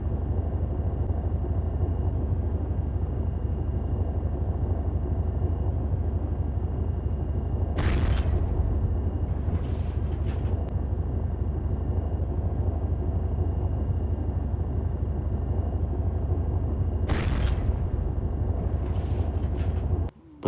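Main tank guns fire in the Harekat 2 mobile game, two sharp booms about nine seconds apart over a constant low engine rumble, each followed by brief clatter.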